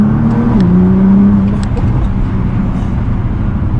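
Salvage Nissan GT-R with a new exhaust mid pipe, its engine droning steadily up close and rising briefly in pitch early on before settling into a continuous loud rumble, with no talk.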